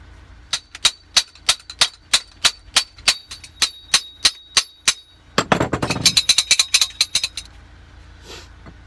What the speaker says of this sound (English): you can see there I formed a socket at the end of the pipe